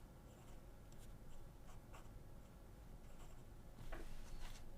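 A Majon fountain pen with a medium nib writes on paper, giving a faint, close scratching that rises and falls with each stroke over a low background hum.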